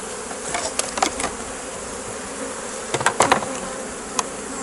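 Honeybees buzzing around an open hive during a colony division, a dense steady hum with individual bees droning past close by and light knocks of hive parts, no voices.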